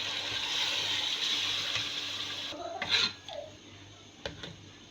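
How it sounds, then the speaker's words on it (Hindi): Water pours steadily in a hissing stream into a cooking pot of korma for a couple of seconds, then stops, followed by a few light clinks and splashes nearby. "और अब मैं इसमें पानी डालकर दम पे छोड़ दूँगी।"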